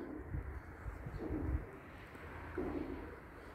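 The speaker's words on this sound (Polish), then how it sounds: "Bogdanie, zobacz, jakie gołębie." Racing pigeons in a loft in Elbląg, Poland cooing softly in low, murmuring bursts against steady background noise, with several coos overlapping close by.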